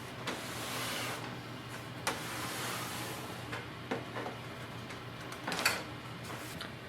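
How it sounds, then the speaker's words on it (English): A Canon Pixma TR7820 all-in-one printer powering up with a soft whirring mechanism, a few sharp clicks and clacks, and motor buzzes that rise and fall at low volume over several seconds. "Switch on the printer, press the power button."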